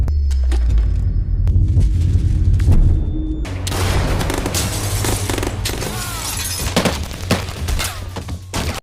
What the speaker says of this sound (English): A violent shootout erupts.